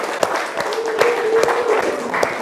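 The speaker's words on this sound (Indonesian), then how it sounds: "dah tepuk tangan" A class of students clapping their hands together in a classroom, a steady patter of many hands close by, with brief voices mixed in.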